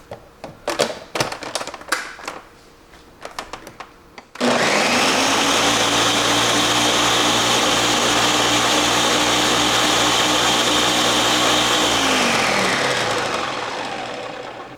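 A blender whirs loudly for about eight seconds, blending a spiced vinegar mixture with serrano peppers, then winds down, after a few sharp clatters as it is set up.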